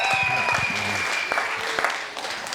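Live comedy club audience clapping and cheering with whistles, a dense burst of applause that stays loud for the whole stretch, with a few shouts mixed in before it begins to thin toward the end.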